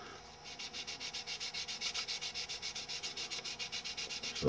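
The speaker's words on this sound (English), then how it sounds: "You got to sand those out too, otherwise they'll show up in the primer." Hand sanding over injection marks on a plastic model part before priming: a steady, rapid back-and-forth scratchy rasp in close, even strokes, with no voices.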